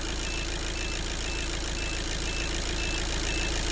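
A Volkswagen Caddy engine runs at a steady idle during an alternator charge check, a continuous low hum with a faint periodic whine, moderately loud and without talk.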